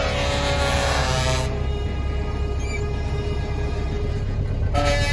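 Loud, sustained blasts of truck air horns sounding continuously during a truck parade, with a brief break in the middle before the honking resumes.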